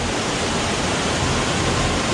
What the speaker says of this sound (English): It's a waterfall that literally floats out of the side of this big green curtain